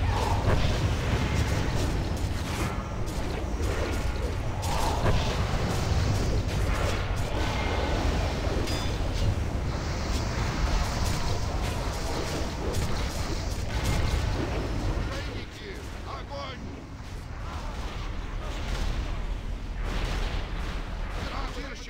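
Artillery and cannon fire in a war video game, a dense, continuous barrage of booms and gunfire with shouted voices mixed in, loud and sustained throughout.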